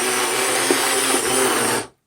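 A loud, continuous motor whir of a hand blender running steadily through marinara sauce, cutting off abruptly at the end.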